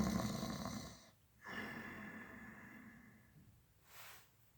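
A storyteller imitates snoring with two long, rasping drawn-in snores separated by a pause, followed by a softer breathy exhale, fairly quiet and close.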